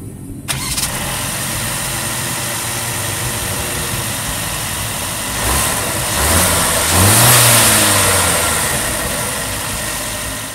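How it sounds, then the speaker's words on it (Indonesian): Mercedes C300 AMG-Line starting with a sharp crank and catch, then settling into idle before a rising rev and falling back down, loud and close with no talking. "Kita pengen dengerin dulu suara mesinnya kayak apa."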